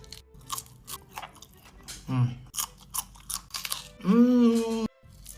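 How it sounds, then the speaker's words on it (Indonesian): Crunchy bites and chewing of fresh tomato close to the mic, with a voice talking between mouthfuls and a drawn-out vocal exclamation near the end. "Tomatnya kriuk-kriuk guys"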